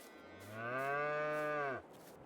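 A single cow in Farming Simulator 22 gives one long, clear moo that rises in volume, holds steady and then drops off abruptly, close and alone.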